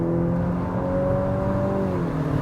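A 2025 Nissan Murano accelerates with a steady engine hum and rising, shifting tones under a broad road and wind roar, heard from inside the cabin without talking.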